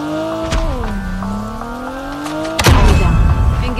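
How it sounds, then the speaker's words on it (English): Game sounds from Call of Duty Mobile around an enemy vehicle: a steady engine-like drone with falling then slowly rising pitch, cut by a loud impact near the end followed by noisy rumble. "Enemy vehicle is nearly done for."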